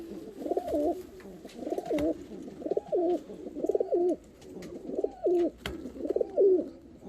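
Fancy show pigeons coo in a loft, six repeated throaty rolling coos in a steady rhythm, fairly close, with faint background rustle and no talk.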